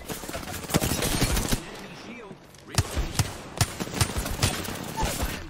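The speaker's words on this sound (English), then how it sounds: "I'm under fire." Rapid bursts of gunfire in Apex Legends, with a sniper in the fight, cracking in dense volleys with brief pauses while a player talks over the shots.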